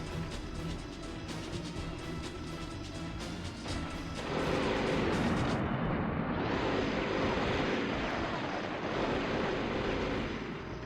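Bombs go off in the Dead To Rights action game. Over a clattering background, a heavy blast erupts partway through and leaves a loud, crashing rumble that roars on to the end.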